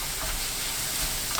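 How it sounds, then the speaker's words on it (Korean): Oyster mushrooms and chili peppers are stir-fried over high heat in a wide, hot pan, giving off a loud, continuous sizzle and hiss with no voices. "4분 후 고추 넣고 30초 볶은 뒤 불 끄세요."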